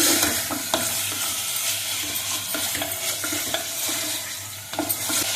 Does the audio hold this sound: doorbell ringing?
no